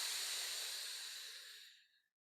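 A long, deep breath drawn during a Qi Gong exercise, a soft airy hiss close to the microphone that gradually fades into silence.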